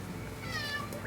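A cat gives a single clear, rising-and-falling meow close by, with low background hum and no talk.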